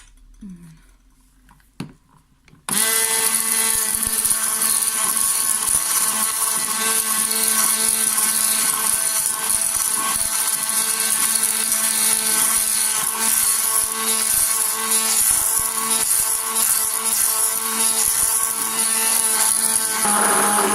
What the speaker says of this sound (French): on va mélanger avec le mixeur